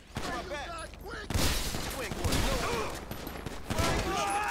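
Shotgun blasts in GTA 5 during an LSPDFR police shootout in Peoria, Illinois, several sharp loud booms spread across the scene amid ongoing gunfire and chatter, with voices faintly underneath.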